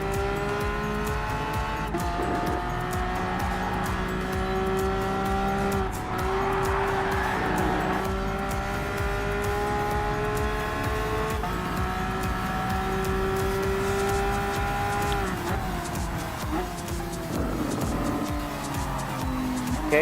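A Porsche Cup race car in Gran Turismo Sport at Dragon Trail Seaside drones with a steady, close engine tone that shifts in pitch through gear changes and slides, with tire noise and other cars nearby.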